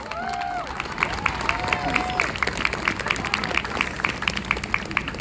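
Live audience at a birthday celebration for Daniel Prude clapping and cheering for Ilhan, mixed with crowd hubbub and whoops, moderately loud and sustained.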